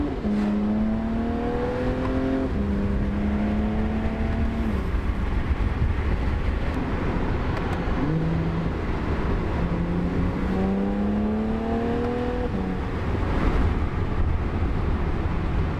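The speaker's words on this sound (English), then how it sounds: "this car sounds so good though." Tuned BMW car with N54 engine and full bolt-on exhaust revving, a loud continuous drone with engine pitch rising and falling through repeated climbs and drops, heard close with no talking.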